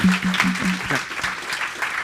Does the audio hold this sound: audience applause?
yes